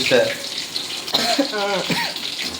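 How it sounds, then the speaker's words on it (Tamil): A pot of payasam bubbles and hisses at a steady simmer, with a brief voice murmuring over the cooking noise. "பாயாசம் வந்து கொதிக்கணும் கொதிச்சுட்டு இருக்குது பாருங்க எவ்வளோ அழகாக கொதிச்சுட்டு இருக்கான்"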